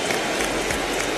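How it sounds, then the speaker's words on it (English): A baseball stadium crowd at a Detroit Tigers vs Cleveland Guardians game gives a dense, loud wash of applause and cheering as an injured player gets back on his feet, steady throughout the short moment. "that will get a reaction from the crowd"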